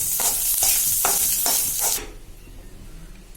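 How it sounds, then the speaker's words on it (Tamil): Leaves roasting in a hot pan, a bright crackling sizzle with four quick stirring scrapes, close and fairly loud, then abruptly dropping to a faint low background. "இலைய தனியா போட்டு தான் வறுக்கணும்."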